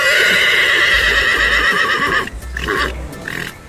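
A horse neighs loudly and close by in a long shrill whinny, then gives shorter broken calls, with a few soft hoof thuds underneath.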